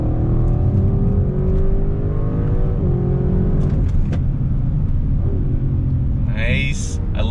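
A 2021 Audi RS7 performance sedan pulling on throttle from a slow roll, its engine rumbling loudly and rising in pitch as it accelerates, with a voice briefly heard near the end.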